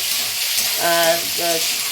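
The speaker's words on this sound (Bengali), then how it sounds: "আলু ভাজাটা নাড়া দিই" Potato fry sizzling in a pan as it is stirred in a home kitchen, a steady hissing crackle throughout, briefly overlaid by a voice.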